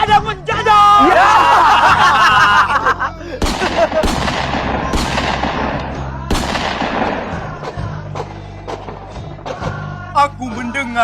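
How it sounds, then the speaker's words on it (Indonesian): Gunfire from a war scene, a few sharp loud blasts ringing out over a dense bed of music and voices, with the bursts spaced a few seconds apart. "Aku mendengar riuh tembakan membahana."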